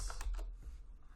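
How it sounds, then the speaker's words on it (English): A few quick keystrokes on a computer keyboard, soft close clicks in a brief burst, alone and faint. "I will just type in pixels and find the right distance."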